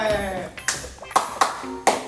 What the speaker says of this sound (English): I clap it up for you.